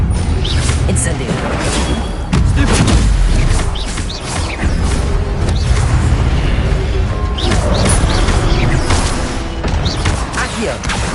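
Incendio fire spell in Hogwarts Legacy, heard as a dense barrage of crackling bursts, thuds and crashes of combat, loud and continuous, with speech mixed in.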